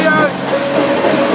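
Freight train running along the rails, a steady loud rumble with a faint tonal hum, heard from on board, with no voices.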